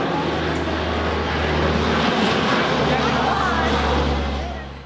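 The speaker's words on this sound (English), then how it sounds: "That's a Coast Guard plane." A Coast Guard airplane flying overhead near a beach in Haiti, a steady broad engine drone with a low hum that holds loud throughout the pass and eases slightly at the end, with faint voices underneath.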